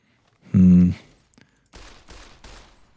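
Game gunfire against radscorpions in Fallout New Vegas: a loud tonal blare comes first, followed by three quick, evenly spaced shots.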